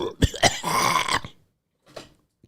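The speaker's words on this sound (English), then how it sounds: "I think I need to pause for the cause. Yeah, I do. And clear my throat." A person clears their throat loudly and up close in one long rasping burst, followed after a short pause by a brief, quieter second clearing.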